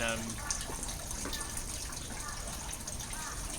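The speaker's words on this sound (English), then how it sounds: "this is water taken from a traditional water fountain here in a shrine in Japan" Water runs steadily from a traditional water fountain at Meiji Jingu Shrine in Japan, a soft continuous trickle and gush heard at low level under ambient outdoor noise.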